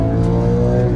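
A 2004 Porsche GT3 pulls hard in second gear, the engine roaring loud and close as a steady, dense drone with no voices over it.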